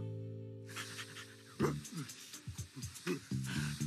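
A cartoon dog pants in quick, rhythmic breaths, with a low tonal hum at the start before the panting begins up close.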